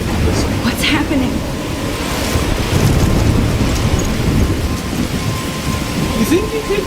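A loud thunderstorm in the Life Is Strange video game, heavy rain hissing and rumbling thunder filling the scene continuously, with faint voices now and then under the storm.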